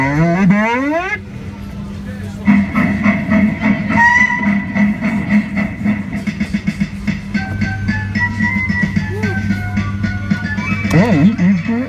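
Barney train kiddie ride playing its sound effects: a train whistle, then chugging and toots mixed with music and a recorded voice, loud and close.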